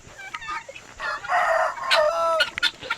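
Guinea fowl raising a racket on a homestead, several harsh, rhythmic, grating calls overlapping close by in loud, choppy bursts.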